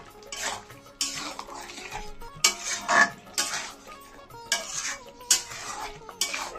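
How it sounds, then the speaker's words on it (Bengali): Egg and cauliflower curry with potatoes is stirred in a metal pan, the spoon scraping and clinking in repeated bursts about every second, close and moderately loud, with no talking. "সব কিছু দিয়ে একটু নাড়িয়ে নিচ্ছি।"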